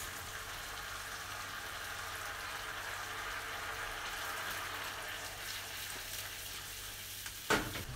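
Tomato sauce with puree and a pinch of salt simmers in a pan for a garlicky tomato pasta, giving a steady, soft sizzling hiss with a low hum underneath and a brief clatter near the end.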